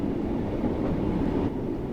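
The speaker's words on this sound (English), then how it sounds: "This particular train is the BR Class 484 electric multiple unit and consists of 2 cars." BR Class 484 two-car electric multiple unit on the Isle of Wight Island Line in Train Sim World 2, giving a steady, loud rolling rumble with rail noise continuing throughout, without speech.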